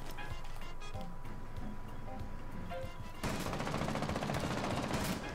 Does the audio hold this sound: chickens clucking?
no